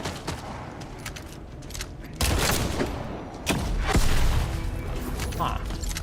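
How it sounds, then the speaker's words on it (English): Beam weapon firing in The First Descendant, a loud sustained crackling burst that kicks in partway through and swells over a steady background of game effects, with speech mixed in. "this is the beam weapon in the game"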